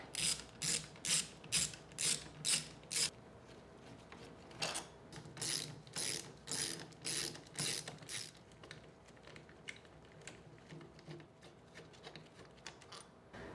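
Ratchet wrench loosening three bolts on the rear housing of a Ford 2G alternator being upgraded to a 3G unit on a 1980-1996 Bronco or F150: bursts of rapid pawl clicking, near and clear, with short pauses between, alone.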